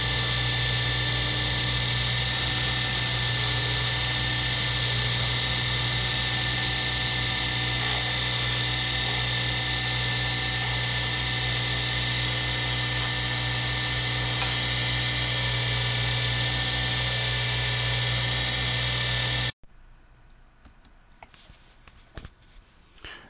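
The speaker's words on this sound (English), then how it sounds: "You hear the engine, the motor of the lathe running" A wood lathe motor hums loudly with a constant whine and drone while turning a pen blank, almost no sound of cutting, running unchanged for a long stretch before cutting off to quiet.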